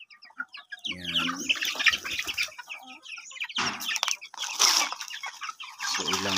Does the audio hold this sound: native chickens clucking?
yes